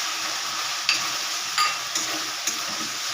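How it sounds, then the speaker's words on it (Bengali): Grated coconut stir-fried with ginger-cumin paste in a pan, for a prawn and banana-flower curry, gives a steady broad sizzle, with a few brief scraping stirs. No voices. "আর একটু কষিয়ে নেব।"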